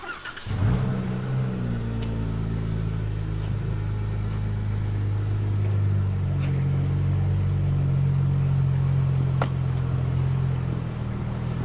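A car engine starting and holding a steady, heavy rumble up close, rising slightly as it revs, running continuously without talk.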